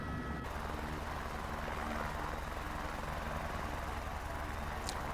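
A Mitsubishi MU-2 turboprop in a flight simulator makes a slow flyby, a steady, loud engine drone with propeller hum that holds evenly throughout, with no talking.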